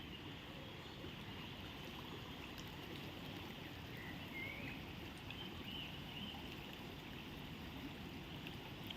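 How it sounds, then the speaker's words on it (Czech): Water flowing steadily in a rocky outdoor stream, a continuous close rushing and trickling wash with no breaks. "Ještě ten zvuk vody"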